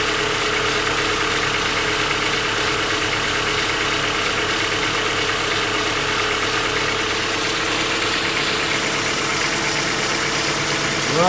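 A warmed-up 1988-97 Nissan D21 pickup engine idles steadily nearby, a constant even drone with a low rumble and faint rattling throughout.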